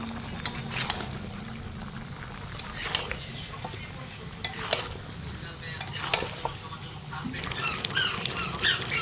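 Chicken with ginger-garlic paste, chili powder and turmeric fries in a pan, with repeated scraping stirs over a steady sizzle and occasional utensil clinks. A voice talks at times.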